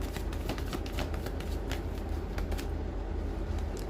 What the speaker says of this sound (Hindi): लास्ट शफल रहेगा